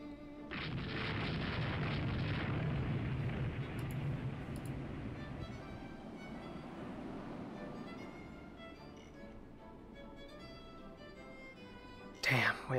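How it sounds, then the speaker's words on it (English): Naval gunfire in the Rule The Waves 2 warship game: a heavy, rumbling boom swells near the start and rolls on for several seconds, then fades into a sustained low roar, with a sharp burst near the end. "We had a point-blank shot, too."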